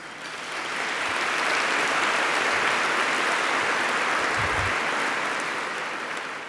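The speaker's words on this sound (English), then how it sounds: "Let's give them one more round of applause." An audience at ARC's 2022 State of the Region event applauds after a performance, a dense, steady clapping that swells in and tapers off gently.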